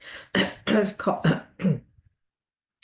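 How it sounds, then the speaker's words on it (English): A series of about five or six harsh coughs close to the microphone, rapid and throaty, followed by silence. "I'm getting the vision of somebody coughing"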